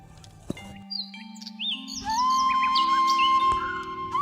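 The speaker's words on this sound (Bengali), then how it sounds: "পাখির ডাক আর বয়ে চলা ঝর্ণার মিষ্টি শব্দ এক স্বর্গীয় অনুভূতি দেয়" Several birds chirp and whistle along a forest trail leading to Debkund waterfall, with bright rising and falling calls layered over a steady low tone, close and clear, growing busier and louder toward the end.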